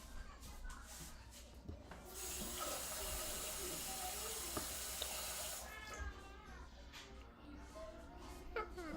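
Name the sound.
hot water being run from tap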